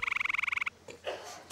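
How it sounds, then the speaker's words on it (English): A grey tree frog gives a fast, even trill of about a dozen loud pulses lasting under a second, then stops, leaving faint voices. "It's meant to be the grey tree frog"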